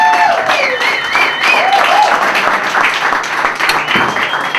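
Comedy-club audience applauding and cheering as comedian Kenny Warren is introduced, a steady loud wash of clapping with whoops and crowd voices throughout.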